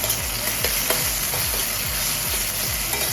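Onion, ginger-garlic paste and coriander stems are sautéed in a pan at close range. A loud, continuous sizzle runs under regular, rhythmic scraping strokes of a spoon, with no talking.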